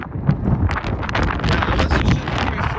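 Strong wind buffets the microphone in a steady, loud roar with gusty rumbles throughout, no voices present.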